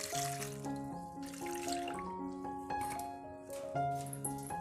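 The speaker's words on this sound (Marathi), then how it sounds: "तर आता आपण पाणी टाकून स्वच्छ यांना धुवून घेऊ" Potatoes being rinsed in water before peeling for homemade potato chips, soft splashing and trickling close by, with a tonal melody running underneath.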